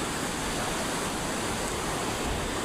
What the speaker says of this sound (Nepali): खोला